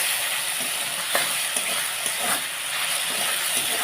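Kochur loti curry with mustard paste and green chilli stirred in a pan, a steady, close sizzle and hiss with faint scraping as the spoon moves, no voices.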